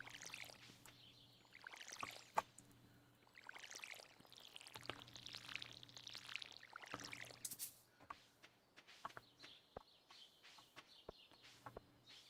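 Watering crops in Stardew Valley: light splashing pours from a watering can repeat in short bursts over a soft looping game background with occasional chirpy effects, fairly quiet throughout.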